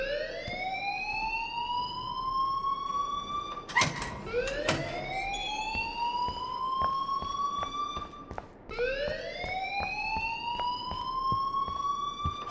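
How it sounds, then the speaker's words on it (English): An alarm rings in the video game Life Is Strange: a loud, steady electronic tone that sweeps upward in repeated rising whoops, briefly broken by a sharp clatter, with no talking. "please turn off that alarm since that's your job"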